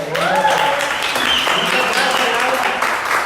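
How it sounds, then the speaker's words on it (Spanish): Applause from a congregation during a church service, a steady wash of clapping from many hands that fills the short stretch, with a voice talking faintly underneath. "ojalá que hay que darle un aplausito"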